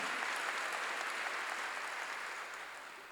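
A church congregation claps in a dense, even wash of applause during a sermon, steady at first and slowly fading over a few seconds.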